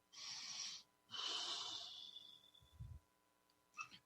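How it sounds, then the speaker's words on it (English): A person draws a soft breath in and lets it out, faint and close, with a short low snort-like puff after and a brief rustle at the end, no talk. "Take a breath."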